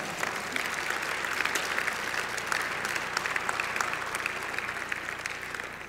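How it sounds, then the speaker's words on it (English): Sustained applause from a crowded room at a business gala, a dense stream of clapping with individual sharp claps standing out, holding steady and easing slightly toward the end. "One more round of applause for NagTag."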